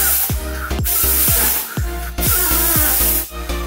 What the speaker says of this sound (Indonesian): Masker yang bagus itu kita tiup.